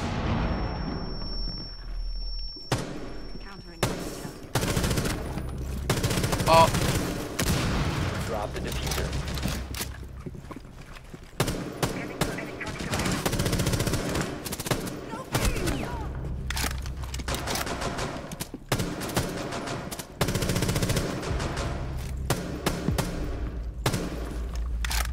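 Gunfire from a weapon in the video game Rainbow Six Siege, dense bursts of rapid shots and impacts running through a busy, loud mix of game sounds.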